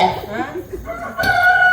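A rooster crows on a stage set for a village folk drama, loud and close, a rising call that holds a bright sustained tone near the end, preceded by a voice.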